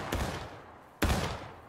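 Musket gunfire from independent fire at a Civil War-style battle reenactment in the East Woods: two loud, sharp, close volleys about a second apart, each trailing off in a rumbling echo.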